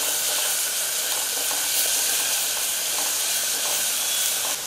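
Garlic, cumin, mustard seeds and curry leaves fry in hot oil for buttermilk curry, giving a loud, steady, close sizzle and hiss throughout with no voices.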